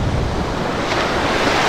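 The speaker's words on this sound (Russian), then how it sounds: "Ну, ветер сильный, шторм" Stormy sea on a beach at Blagoveshchenskaya under strong wind: loud, continuous surf roar with heavy wind buffeting the microphone, no voices.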